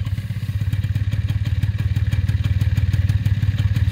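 A 1998 Honda Julio 50 scooter's small two-stroke engine idles close by, a fast, even put-put pulse with light mechanical rattle.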